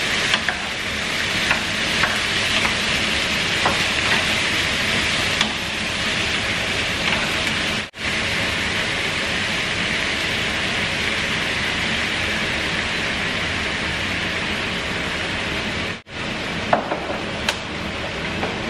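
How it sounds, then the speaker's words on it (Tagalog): Meat frying in a pan, a steady dense sizzle with stirring scrapes that runs loud and close throughout, broken by two brief dropouts. "Iprito lang natin ng saglit."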